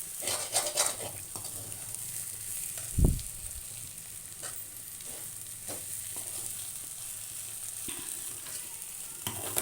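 Egg omelette fries in a pan with a continuous close hiss and crackle, broken by a few scraping stirs and one dull knock against the pan, with no talk.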